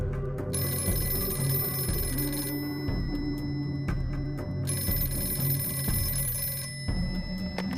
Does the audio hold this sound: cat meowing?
no